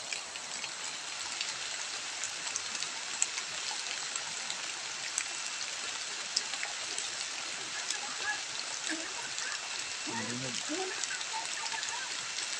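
Steady rain hisses on surfaces as a constant close wash, with a faint voice briefly murmuring underneath.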